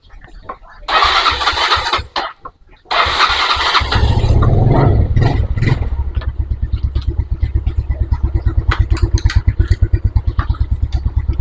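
A carbureted Yamaha Mio Soul scooter, which has a battery-draining charging problem, is electric-started. A short starter whir and a couple of cranking bursts catch into a close, steady, pulsing idle that carries on to the end.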